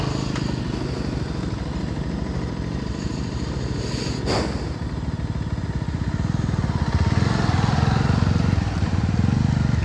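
A Bajaj Pulsar NS 200 motorcycle engine runs steadily during an off-road ride at Palamalai, a loud, close, continuous drone that swells slightly toward the end.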